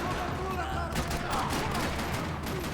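Rapid bursts of video game gunfire from Max Payne 3 crackle continuously, with a sharper volley of shots in the second half, loud and close with busy game noise underneath.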